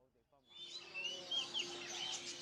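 Small pet birds chirp and tweet in a bird shop, a soft, busy chatter of high calls. It follows a brief voice at the start and stays faint and continuous.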